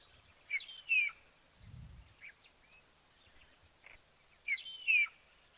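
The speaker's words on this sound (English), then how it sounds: "Can hear magpie shrike." A magpie shrike calls at a waterhole, two bursts of clear whistled, slurred notes about four seconds apart, with faint rustling in between.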